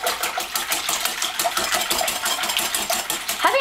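Eggs are whisked together for french toast, a fast steady clatter of a whisk against a bowl, close and continuous with no talking.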